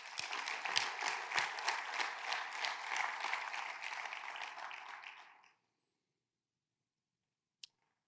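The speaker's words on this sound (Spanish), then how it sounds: "Denle un aplauso a Jesús" A church congregation applauds during a sermon with brisk, full clapping that holds steady for about five seconds, then fades out into silence, broken later by one sharp click.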